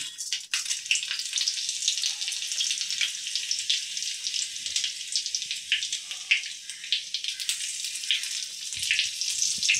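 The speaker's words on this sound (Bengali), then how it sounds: "তারপর দেব জিরে তেজপাতা ফোড়ন" Ghee and oil sizzle steadily with a bright, crackling hiss from a cumin and bay leaf tempering, close and continuous with scattered pops and no talking.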